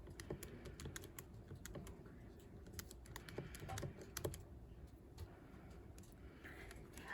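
Fingers tap rapidly on the buttons of a graphing calculator while a matrix is entered, a faint, quick string of small clicks with brief pauses.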